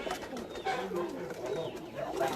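Hira Lal commando-type pigeons at a farm house coo softly in low, rolling phrases, a few overlapping calls close by with a faint background murmur.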